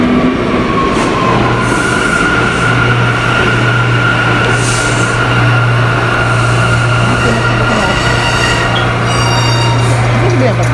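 A loud train rumbles close by with a steady low drone, metallic squeals and rattling over a noisy station ambience.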